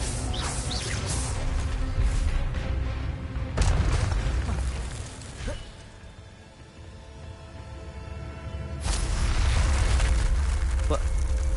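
Incendio fire spell cast in the Hogwarts Legacy video game, heavy whooshing booms bursting out several times with quieter rumbling stretches between, a voice talking over parts of it.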